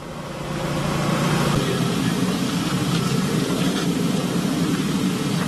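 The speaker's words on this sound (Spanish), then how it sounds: "Se oye el ruido de sobrevuelo de aviones" Aircraft flying overhead in Syria after heavy bombardment make a broad, steady roar that swells in the first second and then holds, loud and noisy throughout.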